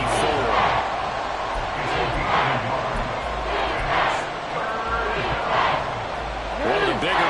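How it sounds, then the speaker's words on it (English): A stadium crowd in the video game Madden 24 roars and cheers ahead of a big third down, a broad swelling wash of noise with rising and falling surges under a commentator's voice. "the crowd getting into it as we come up on a big 3rd down"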